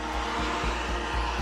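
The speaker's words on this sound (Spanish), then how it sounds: "En esta carretera están pasando coches" Cars passing one after another on a road, a steady rushing drone punctuated by regular low whooshes of traffic going by, with no voices.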